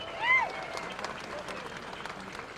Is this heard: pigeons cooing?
no